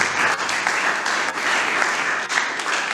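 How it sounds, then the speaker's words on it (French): Applause in a student parliament plenary session, a dense, steady clatter of many hands with a few brief dips, fairly loud throughout. "on peut applaudir pour cette équipe qui entre en fonction"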